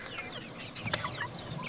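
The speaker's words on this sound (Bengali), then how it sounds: "এই যে আমাদের বাচ্চা মুরগি" Young chickens cluck and peep on a house rooftop, a busy cluster of short calls close by with nobody talking.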